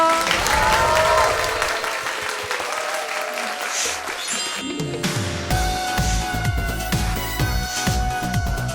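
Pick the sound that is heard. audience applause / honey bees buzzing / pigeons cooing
audience applause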